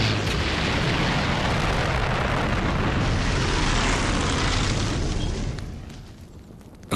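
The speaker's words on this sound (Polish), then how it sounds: "Wraz z tą falą samolotów wojna staje się światową." A wave of World War II warplanes attacking Pearl Harbor, heard as a loud continuous roar of aircraft engines mixed with rumbling blasts that fades slightly at the end.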